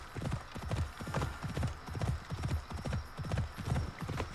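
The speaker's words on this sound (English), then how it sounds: "Phoebus is a good horse, but he definitely likes to walk away from you when you're not riding him." Phoebus, the horse in Assassin's Creed Odyssey, walks in a steady four-beat clip-clop, each hoof strike crisp and close in an even, unhurried rhythm with no talk.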